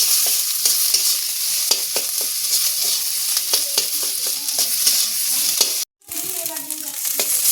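Pakora frying in mustard oil, a loud continuous sizzle close by, broken by sharp scraping and stirring knocks, with a brief cut near the end.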